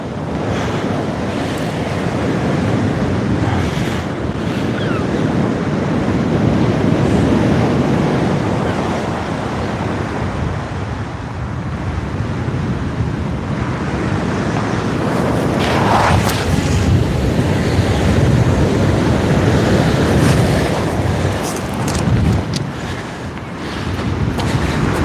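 Steady wind roars over the open sea during kayak fishing, with constant gusty buffeting on the microphone and the wash of surf and waves underneath. It stays loud and unbroken throughout, with no talking.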